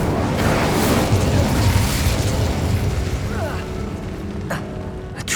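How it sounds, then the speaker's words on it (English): An Incendio fire spell is cast in Hogwarts Legacy against Devil's Snare, producing a dense, roaring whoosh of flame with booming low rumble, then a couple of sharp snaps as it fades; game voices talk over it. "Incendio!"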